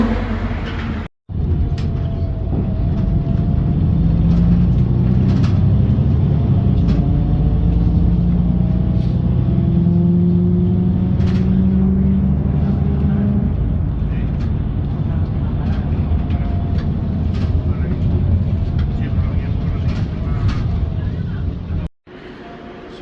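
A bus drives along a road near Gibraltar, giving a loud, steady interior rumble of engine and road noise with a rising and falling drone that carries on for most of the stretch, briefly cut twice.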